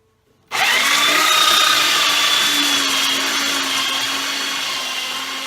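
A Ryobi orbital sander runs continuously and loud at close range, starting abruptly after a brief silence and holding a steady high whine with a slight pitch drift, used in woodworking while fitting a sink into rough lumber.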